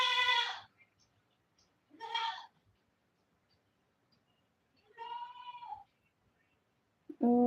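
A goat bleats several times, loud and near, with quiet gaps between the calls and faint background noise.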